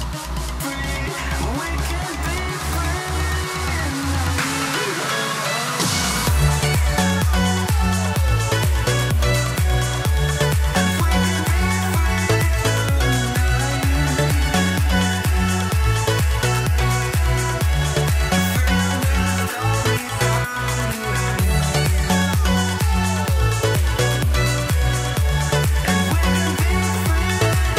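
Dense EDM track built on a Spire synth with a Tropicana preset, driven by a steady four-on-the-floor house kick and pulsing bassline after a short filtered intro; loud, continuous and fully produced, with no voices.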